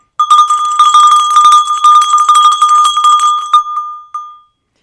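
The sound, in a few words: bell ringing, resembling an early medieval church bell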